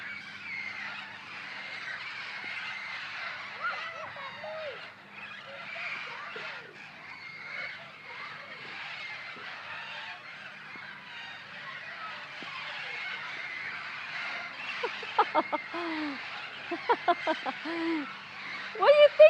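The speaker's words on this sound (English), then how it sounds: "parrots just landed in our tree." A flock of parrots settled in a backyard tree gives a dense, continuous chatter of squawks and calls at middle distance, growing into louder, sharper shrieks near the end, with voices talking faintly now and then.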